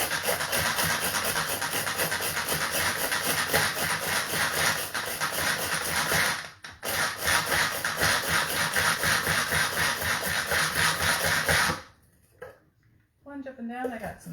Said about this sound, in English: this is the food chopper, this is the manual food processor